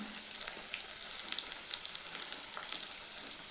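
Crushed garlic and ginger sauté in sesame oil for mushroom chintamani, a steady fine sizzle with scattered small pops and crackles, close and fairly quiet, with no voices.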